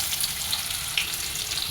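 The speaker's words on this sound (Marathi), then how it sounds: "फोडणीला कांदा थोडासा," Onion tossed into hot tempering oil with curry leaves in a kadhai, a continuous bright sizzle heard up close at an even, moderate loudness.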